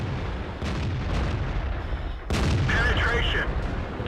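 Tank cannon fire in World of Tanks during a T20 match: a loud, close boom hits twice, the second blast sharper and followed by ringing metallic impact noise.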